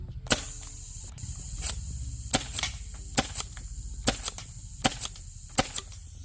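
A PGI Mayhem airsoft gun fires a series of about nine sharp, close snapping shots at uneven intervals, loud and crisp against a low background hiss.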